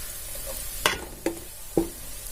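Food sizzles in hot peanut oil in a pan while making Tamil chicken salna, a steady frying hiss with three sharp stirring clatters spaced about half a second apart.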